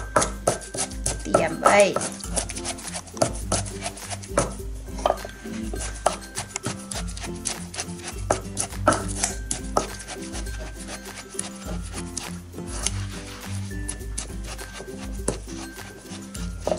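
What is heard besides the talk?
pounding soaked rice in a mortar for bamboo shoot curry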